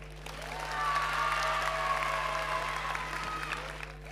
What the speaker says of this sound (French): on peut les applaudir encore bien fort